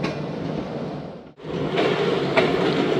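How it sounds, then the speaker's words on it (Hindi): The 16Dn Karachi Express rolls along the rails near Khanpur Junction with a steady rumble, a brief dip as it passes something, then a louder continuous roar with faint clicks. "2:45 पर दोस्तों खानपुर जंक्शन पास हो रही है ट्रेन।"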